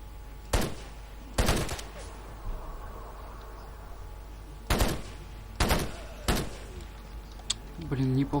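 Several loud, sharp shotgun blasts in the video game STALKER: Wind of Time, fired singly with pauses between them: two close together, then three more, with faint game ambience in the gaps.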